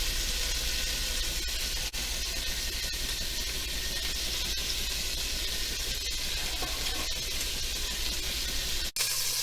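Turkey pieces seasoned with kosher salt browning in a pan on medium-high heat, a steady continuous sizzle and hiss with no talk over it.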